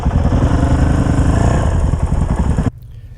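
A dual sport motorcycle rides a trail at an aggressive adventure-ride pace, its engine droning loud and steady before cutting off abruptly near the end, leaving only faint background noise.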